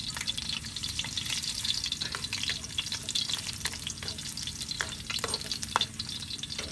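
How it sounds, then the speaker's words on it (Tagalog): Garlic frying in a hot pan for adobong pusit, making a dense, continuous crackling sizzle with scattered sharp pops and some stirring, up close and with no one speaking. "medyo mainit na yung ating kawali mga kasandok. Siyempre lalagyan na natin siya ng bawang."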